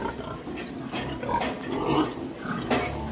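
Piglets feed from roughly 1.5 kg of freshly poured feed in a pen, a steady chorus of close, busy munching and rustling with occasional soft grunts throughout.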